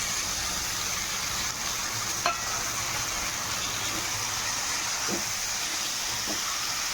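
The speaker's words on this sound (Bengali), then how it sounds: "ভালো করে মিক্স করে ভেজে নেব।" Taro stems frying in spiced oil, a steady bright sizzle and hiss with no break, with a few faint clicks of stirring.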